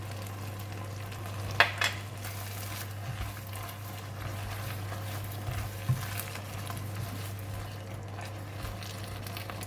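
Okra stir-frying with salt in a pan, a soft steady sizzle over a low constant hum, with a couple of brief scraping stirs near the start and middle, fairly quiet and without talking.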